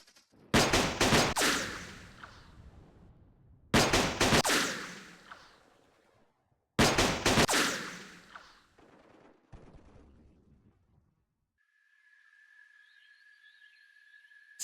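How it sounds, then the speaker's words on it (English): Three loud bursts of rapid gunfire from troops in the Vietnam war video game Campaign Series Vietnam, each fading into a reverberant tail, then a near-silent pause and a thin electronic tone. "They're still shooting us, but they're out in the open."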